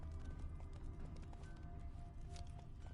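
Roach the horse galloping in The Witcher III, a quiet, steady patter of hoofbeats over low rumbling ambience, with no talk.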